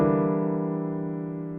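A single rich piano chord, a locked-hands dominant voicing with C on top, struck once and left to ring and slowly decay, close and alone.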